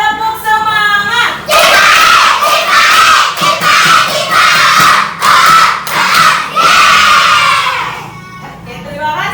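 A classroom of schoolchildren shouts a loud chant in unison, rhythmic bursts of young voices with short gaps between them, close and energetic.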